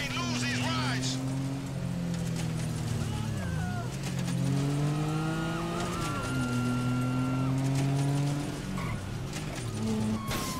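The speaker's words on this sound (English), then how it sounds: "There's another cop car." A police car in Grand Theft Auto V drives with a steady engine drone, rising and falling revs and repeated tire squeals, loud and continuous throughout.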